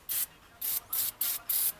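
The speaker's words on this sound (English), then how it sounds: "spraying some degreaser to be able to wash off all this oil and grime." Degreaser sprayed onto an oily, grimy Nissan Murano engine during alternator replacement, six short hissing bursts from a spray nozzle in an even rhythm, close and clear.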